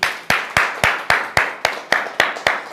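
Steady rhythmic hand clapping in praise of the Lord, about ten sharp claps at an even pace, close and loud with no voices over them.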